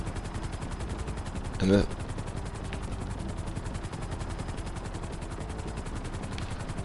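In a GTA Online Cayo Perico heist, a helicopter's rotor thrums steadily while a short burst of gunfire cracks out near the start, with someone briefly speaking over it.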